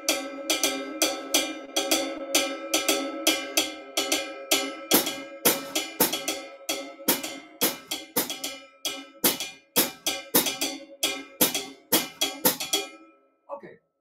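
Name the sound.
atoke bell with hi-hat rhythm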